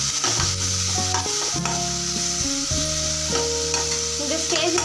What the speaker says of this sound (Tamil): தக்காளி நல்லா வதங்கிட்டு இருக்கு